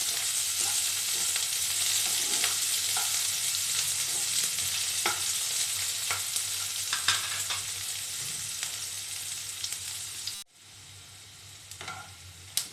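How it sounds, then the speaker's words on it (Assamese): Chopped onions fry in hot oil in a pan for an egg curry, giving a steady, close sizzle broken by scraping stirs; the hiss drops off sharply near the end, then resumes more quietly. "এইখিনি অকণমান ৰঙা হোৱালৈকে ভাজিম"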